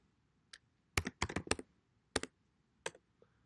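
Computer keyboard keys clicked in short bursts, a lone tap followed by quick clusters of keystrokes with brief pauses, close and crisp in a quiet room.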